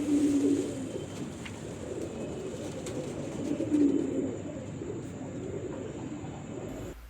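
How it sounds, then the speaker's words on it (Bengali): Pigeons of the imported Royal Teddy breed coo in soft, low, repeated calls that sound close by. Steady background hiss and faint clatter run underneath. "আপনারা এই যে 4 পিস কবুতর দেখলেন"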